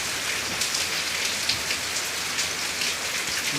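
Heavy rainfall pattering hard and continuously on surfaces nearby, a thick steady hiss with occasional louder drops standing out, no talking.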